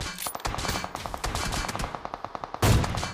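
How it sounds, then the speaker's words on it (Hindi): AWM sniper rifle gunfire in a battle royale video game, a rapid run of sharp shots with a dense, busy backdrop of game sound and a louder burst near the end. "यहाँ पे AWM की सारी गोली मैं मिस कर देता हूँ"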